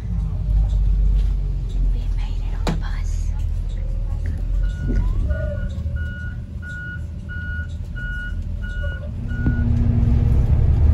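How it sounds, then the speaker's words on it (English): A school bus pulls up nearby with a steady low engine rumble, a run of evenly spaced high beeps and a brief air brake hiss, while people talk in the foreground. "The bus is coming."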